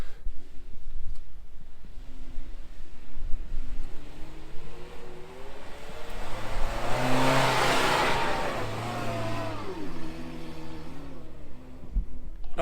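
A Holden Trailblazer 4WD revs hard through super soft beach sand, its engine climbing to a loud peak mid-run and easing off again, the strained roar rising and falling with no talk.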